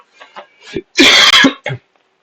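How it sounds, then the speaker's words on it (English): A single loud, harsh cough burst with a short follow-up cough, preceded by soft breathy sounds, close to the microphone. "Sorry if I'm coughing or sipping a lot of juice."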